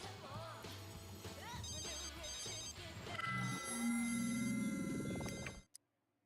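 A telephone rings in The Sims 3 as a repeated electronic chime over game music, the tones rising and swelling toward the end before cutting off abruptly.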